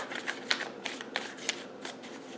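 Tarot cards being shuffled by hand, a quick run of crisp riffling flicks and soft slaps repeating in an irregular rhythm, close and fairly quiet with no talking.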